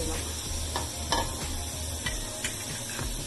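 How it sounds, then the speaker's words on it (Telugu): Fish frying in hot oil in a pan for a home-style fish curry, a steady close sizzle with occasional clicks and scrapes of stirring. "ఇప్పుడు ఇందులో మనం ఫిష్ వేసేసుకుంటున్నాం ఈ త్రీ ఫిష్"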